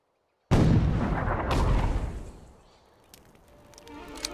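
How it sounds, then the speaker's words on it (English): Mortars fire in the Assassin's Creed Chronicles: India game: a loud, heavy blast breaks the silence, a second boom follows about a second later, then both rumble and decay into faint background noise. "Those guards must be stopped or their mortars will bring this tower down."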